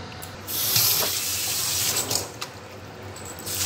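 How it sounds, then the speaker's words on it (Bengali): Vegetables, including tomatoes, peas and potatoes, washed under a running kitchen tap, a steady close hiss of flowing water with small splashes, no talk. "এইয়া এখন ভালো করে ধুয়ে নেবে দিদি"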